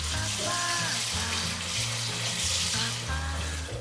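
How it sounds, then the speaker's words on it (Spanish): Water runs steadily into a pot of lentils in a home kitchen, a loud continuous close-up gush with a faint low musical background underneath and no talk. "Añadimos agua justo hasta que cubra las lentejas."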